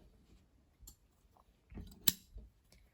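Scissors snipping crochet yarn, a few quiet close clicks and one sharper snip, very soft overall.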